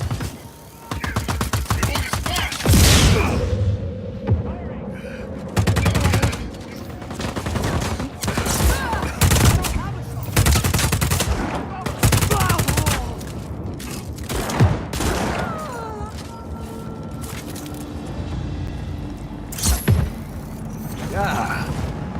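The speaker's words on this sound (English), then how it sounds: "Taking fire!" Heavy gunfire in the open-world action game Just Cause 4 comes in repeated loud fusillades and bursts, mixed with booms and mechanical clanks, with shouted voices cutting in between over a long stretch.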